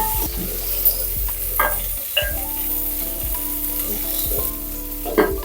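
Tomato frying in a pan for Karnataka avare bele saagu, a steady close sizzle with scraping and clinks of a spoon stirring now and then.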